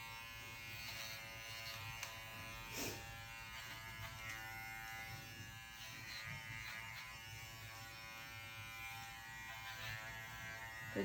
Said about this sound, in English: we're not shaving the whole inside of the ear, just about the top third